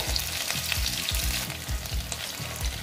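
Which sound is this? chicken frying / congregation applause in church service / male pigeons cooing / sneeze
chicken frying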